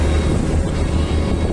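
Factory generators run during a power cut after a storm, a continuous low, droning rumble that holds steady and moderately loud throughout, with no voices.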